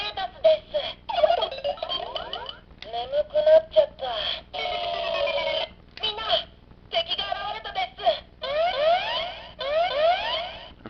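The DX Datas collectible toy plays its electronic alarm sound effects: loud, bright warbling and sweeping synthetic tones in repeated bursts separated by short gaps.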